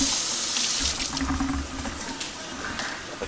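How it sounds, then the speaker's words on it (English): Water running from a kitchen tap while a lemon is rinsed, a close, steady splashing stream that changes slightly as the fruit is turned under it. "Wash it off."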